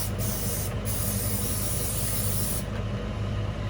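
A steady, loud hiss of spraying runs throughout with little change, close by.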